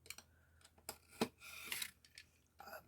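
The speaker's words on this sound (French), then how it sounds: "toutes les lignes droites, en fait, on les fait au cutter." Craft knife slicing paper along straight lines for a scrapbook album: a few quiet, brief scraping strokes and scratchy rasps, close and faint, with no talking.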